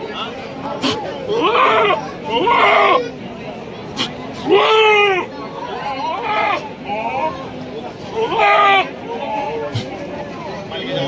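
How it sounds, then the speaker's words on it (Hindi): Goats bleat repeatedly at the Devnar livestock market, several loud, wavering calls rising one after another over a steady crowd hubbub of people talking nearby. "बकरा इधर भी है भाई माशाल्लाह बकरे, इधर भी बकरे सब है।"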